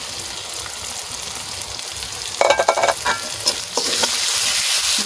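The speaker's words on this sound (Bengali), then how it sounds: "কিছুক্ষণ এভাবে কষাবো।" Whole spices fry in hot white oil in a pan, a steady broadband sizzle with stirring scrapes and clatters partway through, the sizzle swelling louder toward the end.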